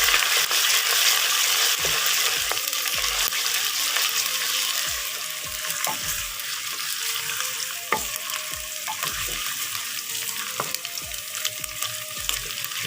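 Ginger garlic paste sizzles steadily with browned onions in a dhaba-style mixed vegetable pan, a constant close frying hiss broken by repeated sharp knocks and scrapes of a stirring spoon against the pan, with no talk.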